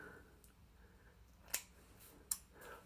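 Scissors cutting hair during a home haircut: two crisp, isolated snips about a second apart, close and fairly quiet against a hushed room.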